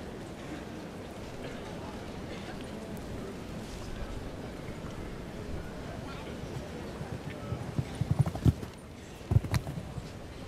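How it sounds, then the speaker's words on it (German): A show jumping horse's hooves at the 2013 Aachen Grand Prix: steady rhythmic hoofbeats on the arena footing, building to heavier, louder thuds near the end, under continuous commentary. "Ein Pferd, das in der Lage ist, frisch im hohen Tempo Hindernisse zu überwinden."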